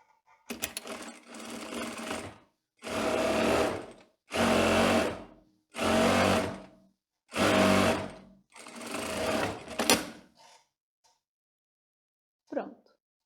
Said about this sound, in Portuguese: Costurei, da mesma forma vou fazer o pesponto agora.